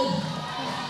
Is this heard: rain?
no